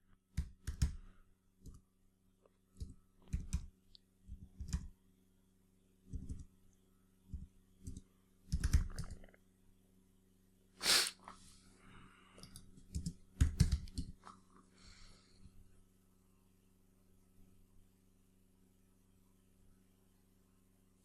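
Quiet keys click on a computer keyboard in short irregular bursts of typing, close but faint against a low steady hum, with pauses between the bursts.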